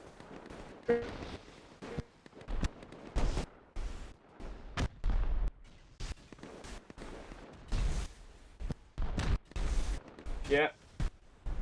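Gunshots strike a player base during a 7v7 Rust tournament match, arriving as many sharp, irregular cracks and bursts over a busy mix, with commentators talking throughout.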